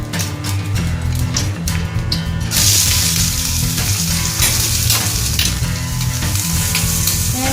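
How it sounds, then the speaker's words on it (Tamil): Onions dropped into hot oil for a Sri Lankan coconut sambol fry with a loud, dense sizzle that swells after the first couple of seconds and crackles continuously up close. "டேரெக்டாக என்ன பண்ண போகிறேன்னா வெங்காயத்தை கொட்ட போகிறேன்"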